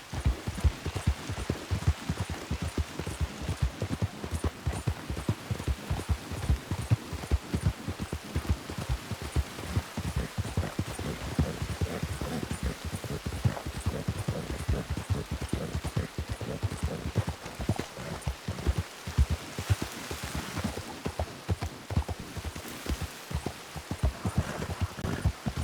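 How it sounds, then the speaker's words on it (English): Steady rain falls in Red Dead Redemption II, a dense continuous patter with rhythmic hoof-like clopping mixed in throughout, moderately loud and without speech. "It sounds like rain"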